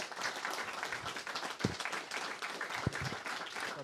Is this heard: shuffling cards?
no